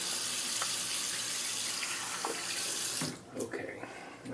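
A bathroom water tap running steadily while a Merkur safety razor is rinsed, a continuous hiss of water that cuts off near the end, followed by a few small clatters and splashes.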